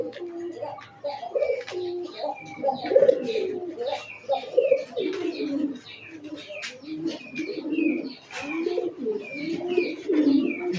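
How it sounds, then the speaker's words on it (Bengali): A male pigeon coos repeatedly, close and fairly loud, in throaty rolling phrases with faint chirps and bird calls behind. "এই যে দেখেন নর কিন্তু ডাকতেছে"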